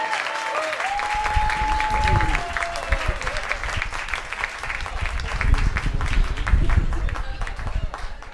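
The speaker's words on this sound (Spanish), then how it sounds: "Fuerte aplauso para Francisco Morales." Festival audience at a Christian music event in Coquimbo applauding Francisco Morales, sustained dense clapping and crowd noise throughout, with voices and some musical tones mixed in.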